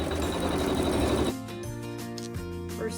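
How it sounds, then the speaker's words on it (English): A sewing machine sews a seam in fabric with neutral thread, a dense steady mechanical whir for just over a second that then stops, leaving only a faint, quieter machine sound. "put your neutral thread in the machine and go ahead and sew a seam"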